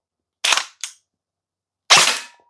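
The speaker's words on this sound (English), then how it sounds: "So first shot." An Arcturus AK05 airsoft AEG rifle fires single semi-auto shots, three sharp, loud snaps close by, two in quick succession and a third after a pause, with silence between them.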